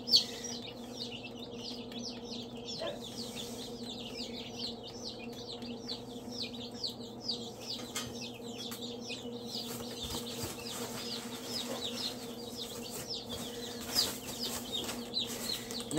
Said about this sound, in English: Nothing but healthy chickens and ducks.